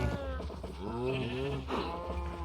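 Minecraft cows being bred let out a few drawn-out, wavering moo-like calls, close and moderately loud, with short gaps between them.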